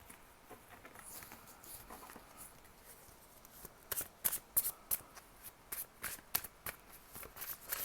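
Oracle cards are shuffled by hand during a tarot reading, starting as soft quiet rustling and building into a series of crisp, riffling flutters that repeat in quick bursts, close and clear.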